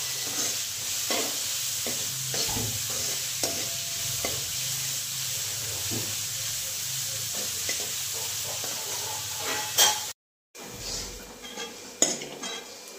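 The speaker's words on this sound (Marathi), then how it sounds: "आता कांदा चांगला लाल भाजून घेते." Onion frying in a pan until browned, a steady sizzle with frequent stirring scrapes and clinks of a utensil against the pan, close and continuous, with a brief drop and a sharp clatter near the end.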